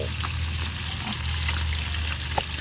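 Kamias fries in oil, sizzling and crackling steadily with a constant frying hiss, punctuated by small pops and a low background hum.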